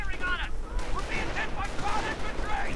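Airborne Nebelwerfer rockets howl amid gunfire and explosions in a WWII strategy video game, with warbling whines over a rumbling battle bed at moderate loudness, and a voice talks through it.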